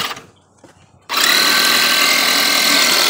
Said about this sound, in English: And we're trying this air compressor,